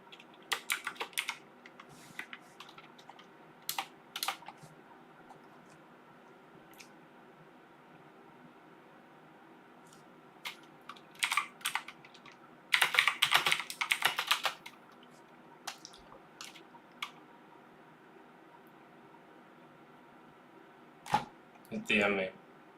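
Keys clatter on a computer keyboard in scattered bursts, some dense and quick, others sparse, against a low steady background hum.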